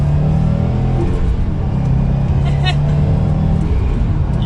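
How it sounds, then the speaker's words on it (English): A 2021 Subaru WRX STI turbo engine accelerates from inside the car, a loud steady low rumble with rising engine tones and a brief whistle, while someone talks over it. "You can hear that turbo."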